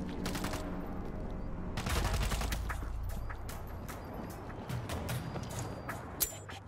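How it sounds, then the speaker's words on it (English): Sustained machine gun fire in the zombie shooter World War Z, rapid loud bursts of automatic shots layered with scattered gunfire, continuous and dense throughout. "Machine gun locked and loaded."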